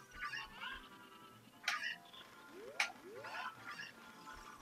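Cucco chicken in The Legend of Zelda: Ocarina of Time giving several squawking clucks and a couple of rising cries, faint and spaced out over a quiet game background.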